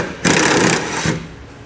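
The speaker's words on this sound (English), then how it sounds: "we're just going to use the gun" An impact gun spins a bolt out during a running board installation on a 2019 Ram, two short loud bursts of pneumatic rattling close by, the first longer and the second briefer, with no talk.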